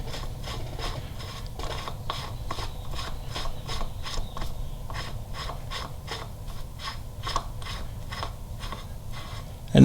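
Steady ratcheting clicks while a part is threaded by hand into a Harley-Davidson Milwaukee-Eight engine during a cam install, a fast even rasping rhythm heard close up with no talk.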